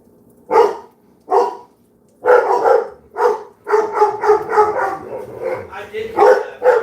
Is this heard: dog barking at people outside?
yes